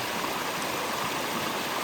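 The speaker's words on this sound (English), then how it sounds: "So this is a tributary of the Skagit River." A tributary of the Skagit River flowing over rocks, a constant, dense rushing of water heard close and steady with no voices.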